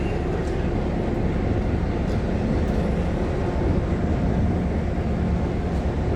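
A Monroe Rail Hoosier line train rumbles steadily in small-town Indiana, a continuous low, broad rolling noise heard from a moderate distance with no voices.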